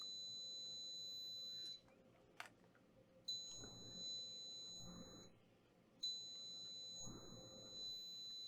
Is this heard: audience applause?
no